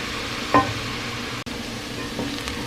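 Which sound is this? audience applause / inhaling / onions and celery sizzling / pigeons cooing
onions and celery sizzling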